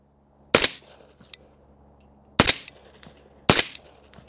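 A rifle fires through an Anechoic 30L suppressor three times at an outdoor range. Each shot is a sharp, dulled crack, the first after a short pause and the next two closer together, each with a brief echo trailing off.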